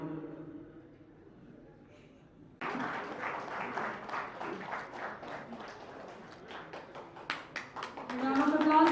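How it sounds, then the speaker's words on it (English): Applause rises from an audience at a professional association's festival event, beginning abruptly after quiet talk and building into brisk, dense clapping with a few sharper claps near the end. "Round of applause, everybody."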